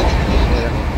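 The Howrah Barmer Express running, a loud continuous low rumble of rolling wheels and carriage noise heard from on board, with no clear voices.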